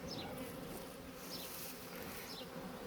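Forager honeybees buzz around beehives newly arrived at Le Grand-Pressigny, a dense, steady swarm drone held close and unbroken throughout, with no talking.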